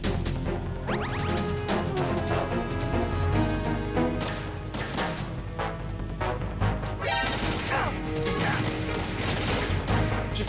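Tank cannon fire and explosions in Metal Gear Solid 2, a dense, loud barrage of crashing impacts and blasts over constant game music and noise, with heavier hits around the middle and end.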